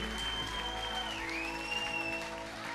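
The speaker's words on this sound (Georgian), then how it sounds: "ამ დროს აპლოდისმენტები" An audience on a Georgian TV show applauding as the jury is introduced: moderately quiet clapping mixed under sustained music.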